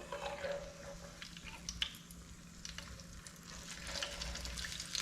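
Apple pies fry in peanut oil with a steady close sizzle and bubbling, broken by occasional small pops and crackles. It goes on evenly throughout with no talking.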